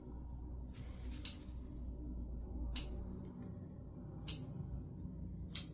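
Scissors make four sharp, evenly spaced snips while clipping around the curves of fabric panels for an Annabelle sewing pattern, the close, crisp cuts standing out over a low steady room rumble with no talking.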